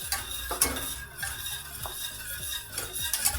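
Butter cubes stirred into lemon cream over low heat make a steady close scraping and light clinking of a utensil against the pan, with a soft simmer beneath and no talk.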